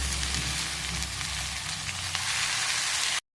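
Green chillies and jute leaves fry in hot oil, giving a steady, dense sizzle throughout that cuts off abruptly at the end; no one talks.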